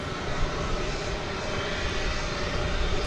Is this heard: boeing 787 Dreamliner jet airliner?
yes